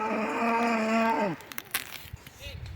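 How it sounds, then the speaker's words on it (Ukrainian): A single long cow moo, loud and close, lasting over a second, in the Carpathian Mountains, followed by quiet rustling and faint outdoor noises. "А ось і корова йде наша."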